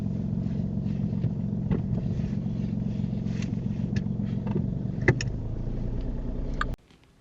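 A car pulls away and drives on during a UK mock driving test, a low steady engine rumble from inside the cabin with a few small clicks and knocks, cutting off sharply near the end.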